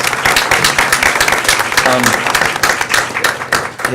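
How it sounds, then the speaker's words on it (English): Audience applause for students at a school board of education meeting, a dense, loud round of clapping from a full room, with voices and cheers mixed in throughout. "Please give them another round of applause."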